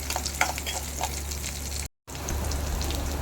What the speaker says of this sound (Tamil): நம்ம பொடியாக நறுக்கி வச்ச சின்ன வெங்காயத்தை நல்லா வதக்கி வதங்க விடணும்